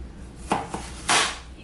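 A knife slicing through a red onion on a cutting board, three quick crisp cuts close by, the last one longer and louder, with no talk.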